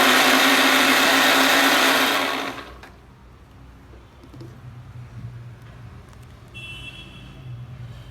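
A blender whirs loudly while spinning a strawberry milkshake, running steadily for about two and a half seconds before cutting off, leaving a quiet room.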